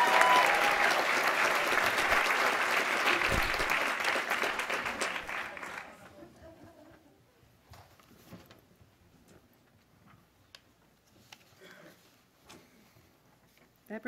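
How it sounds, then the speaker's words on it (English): Audience applause for teachers and students at a school district board meeting, a dense steady round of clapping for about six seconds that then dies away, leaving a quiet room with faint scattered noises. "Let's give all of our teachers as well as our students another round of applause."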